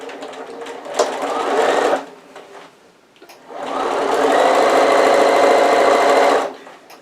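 A sewing machine top-stitches a half-inch seam on a cushion cover, with two loud close bursts of fast whirring stitching separated by a short pause.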